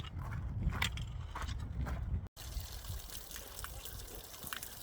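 Cold spring water trickling at Little Jimmy Spring on a mountainside along the Pacific Crest Trail: a faint, steady dribble and splash, close by, with a short break midway.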